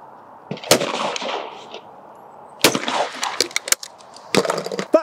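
Browning shotgun fired at clay targets outdoors: three sharp, loud shots spaced a couple of seconds apart, each followed by a ringing decay, with no talk in between.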